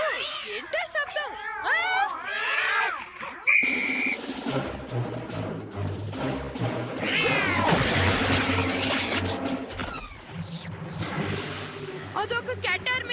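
Cartoon cats in a cat army meowing and yowling in quick overlapping cries, loud and close, followed by a dense chorus of caterwauling layered with music and a brief whistle; voices talk over parts of it.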